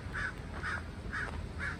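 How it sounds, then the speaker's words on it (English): A black bird gives four harsh caws at an even pace over a low rumbling background by a river, fairly close and clear. "I hear a bird."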